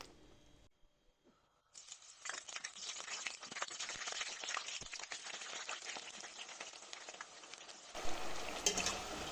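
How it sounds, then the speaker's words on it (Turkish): After a quiet start, eggplant hits hot oil and a dense, steady crackling sizzle of frying continues, close and lively, with occasional clinks. "Suyunu süzüp kuruladıktan sonra e, sıvı yağında güzelce kızartacağım."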